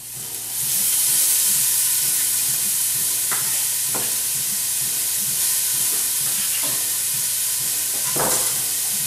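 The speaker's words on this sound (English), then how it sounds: "we're going to throw that into the pot" Chopped vegetables for corn chowder tumble into a hot pot and sizzle steadily, with a few soft stirring scrapes and clinks breaking through a continuous frying hiss.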